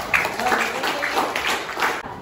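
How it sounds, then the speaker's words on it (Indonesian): Classroom applause for a student, a scattered group of hands clapping fairly close for a couple of seconds before stopping abruptly, with a thin electronic whine underneath. "beri tepuk tangan dulu untuk Tegar."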